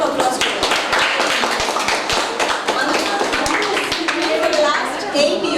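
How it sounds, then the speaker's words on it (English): A crowd claps loudly and steadily at a school parents' day, a dense wash of applause with a few voices and cheers mixed in, sustained throughout. "Can we have a huge round of applause?"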